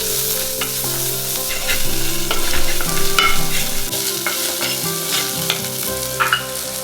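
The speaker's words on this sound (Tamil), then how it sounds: "நான் எப்பவுமே வெங்காயம் வதக்கும் போது கொஞ்சம் உப்பு போட்டுப்பேன் சீக்கிரமாக வதங்கிறதுக்கு." Small onions sauté with a pinch of salt in a pan, giving a loud, continuous sizzle with repeated stirring and scraping throughout, alone without any talk.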